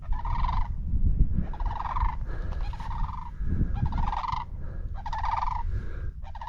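Sandhill cranes call in the wild bush, repeated rolling, rattling bugles in bursts over a low rumble of wind or movement.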